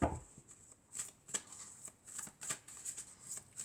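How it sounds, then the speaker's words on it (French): A tarot deck being handled as a final card is drawn, giving a run of soft papery flicks and riffling snaps, several quick bursts spaced irregularly over a few seconds, close and quiet with no talking. "Et on va prendre une dernière carte."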